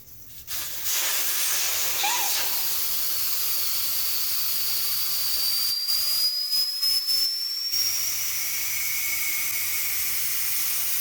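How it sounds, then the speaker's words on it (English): Compressed air rushes out of a tire valve on a tire changer as the wheel deflates, a loud continuous hiss that holds steady for the whole stretch with a faint rising whistle partway through. "what it's going to do is it's going to grab that valve and take that air out. It's going to be a bit loud."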